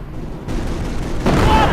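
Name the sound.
small arms gunfire in the video game Company of Heroes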